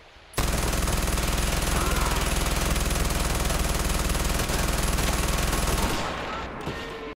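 Sustained rapid automatic gunfire in the Far Cry 4 video game, loud and continuous for several seconds before cutting off abruptly near the end.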